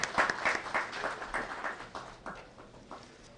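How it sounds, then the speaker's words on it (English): A modest round of applause at a government conference session, with scattered, distinct claps that fade over a few seconds. "Please welcome ma'am with a round of applause."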